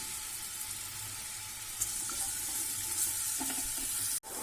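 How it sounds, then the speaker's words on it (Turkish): Steady sizzling of chopped onion frying in oil in a pot, a continuous crackling hiss with occasional faint clinks, close by and without talk. "Soğanlarımız kavruldu."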